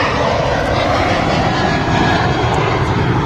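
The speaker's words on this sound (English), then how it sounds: "Now rolling on the runway is a Manchester to Prague service." Ryanair Boeing 737 rolling along the runway at Manchester Airport, a steady loud jet engine roar that stays constant throughout.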